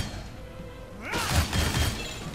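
An explosion in the game Shank 2 bursts in suddenly after a brief quiet hum, a loud crashing blast followed by rumbling thuds.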